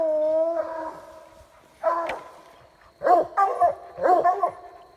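Hunting dogs bay at a raccoon treed at night during a coon hunt, a long drawn-out howl followed by a series of loud, ringing barks and bawls close by, several in quick succession.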